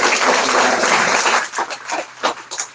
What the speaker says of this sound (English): Cindy, nice round of applause